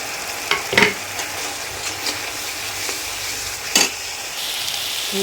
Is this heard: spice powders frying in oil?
yes